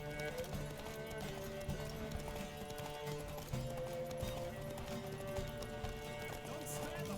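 A horse gallops in The Witcher video game during a race, a steady rhythmic clip-clop of hooves running continuously under game music and effects, moderately loud throughout.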